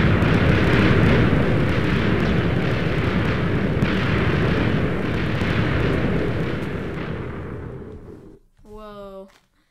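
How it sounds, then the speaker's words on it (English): A huge explosion in the Minecraft video game roars as a loud, dense, rumbling blast that sustains and slowly fades over several seconds, followed by a brief burst of talking at the end. "we're going to see the explosion first"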